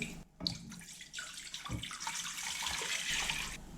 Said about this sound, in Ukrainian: Беру кастрюлю, наливаю води.